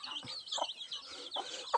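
Short clucks from a chicken, a few separate bursts close by, with faint chirping in the background.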